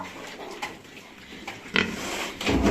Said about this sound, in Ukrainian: Оце свинки дві.